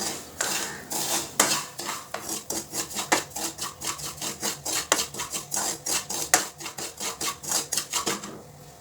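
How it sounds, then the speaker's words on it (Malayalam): Semolina is fried in a pan, stirred with rapid, rhythmic scraping and clinking of a spoon against the metal, dozens of quick strokes over several seconds, close and with no voices. "3 ടേബിൾ സ്പൂൺ റവ ചേർത്ത് കൊടുത്തിട്ട് ആ റവയൊന്ന് ചെറുതായിട്ടൊന്ന് ഫ്രൈ ചെയ്തെടുക്കാം."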